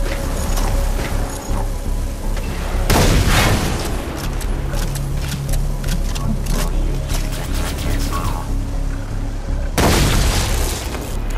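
Grenades exploding in the Far Cry 3 Blood Dragon shooter, two loud, heavy booms with rolling rumble and debris, separated by several seconds of dense battle noise and clatter, no talking.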